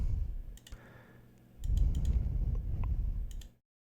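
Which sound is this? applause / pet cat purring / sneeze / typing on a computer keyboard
typing on a computer keyboard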